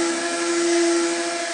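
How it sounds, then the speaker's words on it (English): An epoxy resin river table being power-sanded, a brief steady whirring hum with a constant tonal whine, loud and close. "Then give it a sanding."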